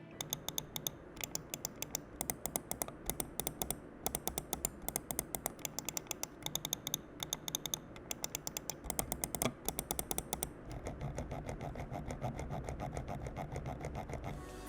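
Rapid, sharp clicks from the clicky switches of an NYK Nemesis Ness MQ-31 gaming mouse repeat in quick bursts, crisp and close, giving way to a steadier rattling stream of clicks near the end.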